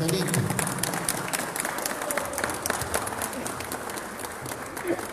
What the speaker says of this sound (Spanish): Un aplauso fuerte para nuestro Tata Bartolito.